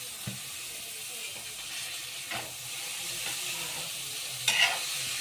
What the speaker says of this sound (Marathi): आता त्याच्यामध्ये मी शेंगा टाकते गवाराच्या.